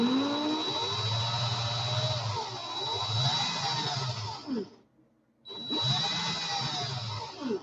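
A power drill whines steadily while twisting coil wire, running for several seconds, stopping briefly, then spinning up again at close range.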